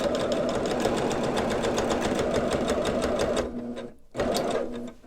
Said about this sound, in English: I'm going to sew just along the top.